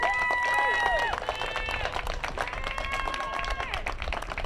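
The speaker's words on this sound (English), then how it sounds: "clap for these babies right here and give them their props" An audience at the Final Edit Leadership Academy 2021 stole ceremony claps for the graduates, with high whoops and cheering voices riding over steady clapping.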